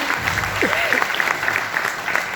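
A meeting audience breaks into applause, a dense, steady patter of many hands clapping close by for a couple of seconds, with a faint voice underneath.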